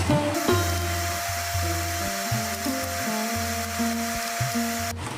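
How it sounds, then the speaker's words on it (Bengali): Pakoras sizzle steadily in hot oil, a continuous hiss running under a droning hum that holds for several seconds before cutting off at the end. "এই পকোড়াগুলো একটা একটা করে তেলে দিয়ে ভালো করে ভেজে তুলে নেব"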